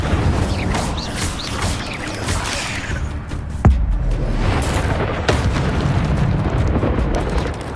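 Fire spell cast in the video game Hogwarts Legacy, heard as a roaring, crackling burst with booming impacts and a sharp whoosh midway, loud and continuous over game ambience.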